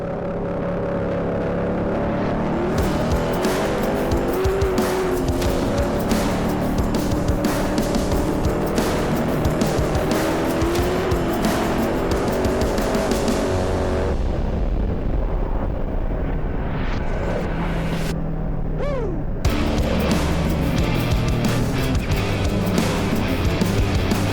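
An AC Cobra race car at the Goodwood Revival RAC TT Celebration race roars loudly and continuously, its engine note rising and falling through gear changes, with other cars passing close by.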